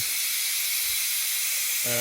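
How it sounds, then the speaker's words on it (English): Steady broadband hiss of steam escaping while cannabis oil is cooked at home, continuous and fairly loud throughout, with a short tonal hum entering at the very end. "that is the noise from the steam coming out"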